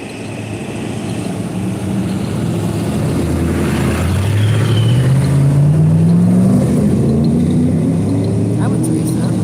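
Ford F100 pickup trucks at the Grand National F100 truck cruise in Gatlinburg, with one engine revving up in a steady rising drone over a busy street background where voices murmur.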